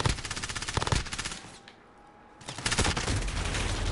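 Automatic gunfire in Call of Duty, rapid bursts of shots that pause for about a second and then resume, loud and close.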